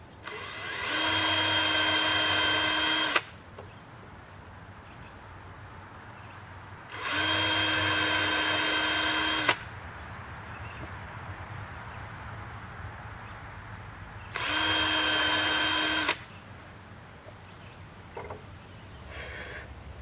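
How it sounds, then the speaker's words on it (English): A power drill pre-drills holes in pine shelf pieces in a cabin workshop, three loud bursts of steady high whine a few seconds each, separated by quieter pauses with small clicks. "So just going to pre-drill some holes"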